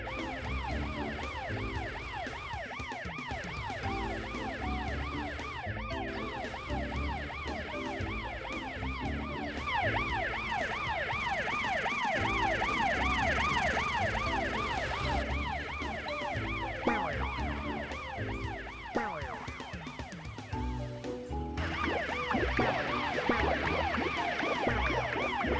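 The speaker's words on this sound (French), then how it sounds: "Hé, hey, Tyson, entends-tu la sirène derrière toi?" A toy police car's wailing siren cycles up and down continuously, loud and close, over a steady low rumble of traffic or engine noise.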